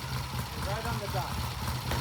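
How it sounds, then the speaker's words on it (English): An engine idling with a low, steady pulsing rumble at moderate level, with people talking nearby over it. "Let's let it idle for a while."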